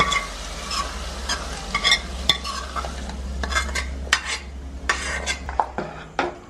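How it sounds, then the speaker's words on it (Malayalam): A hot tempering tipped into a pot of sambar, giving a close, steady sizzle with spoon scrapes and clinks against the vessel throughout, no voices. "നമുക്ക് ഇനി എടുത്ത് സാമ്പാറിനകത്തോട്ട് ഒഴിക്കാം."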